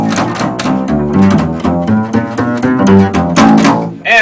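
An upright string bass plays a steady run of deep, resonant notes, loud and continuous with rich overtones and no talking.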